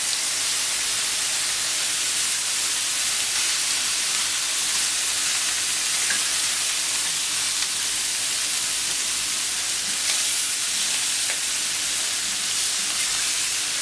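Veal sears in a hot pan, a steady loud sizzle and hiss that holds unbroken throughout, close by and with no talk.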